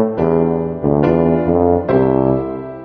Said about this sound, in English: A tuba sounds like this.